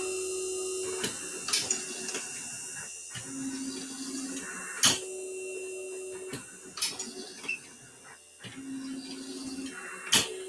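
Motor-driven Dillon 1050 progressive ammunition reloading press cycling through a caliber changeover, with a steady mechanical hum, a recurring whine and sharp periodic clacks of the ram and indexing stations every second or two.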